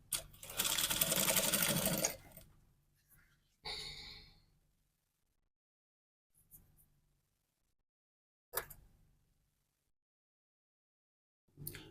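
Sewing machine stitching dress shoulders in a short, close, steady run of about two seconds, followed by quieter bursts of fabric handling and a sigh-like breath amid long silent gaps.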